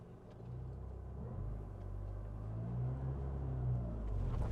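A manual car's engine rumbles low and builds steadily through a fast clutch start, a close, continuous drone rising gradually with no voices.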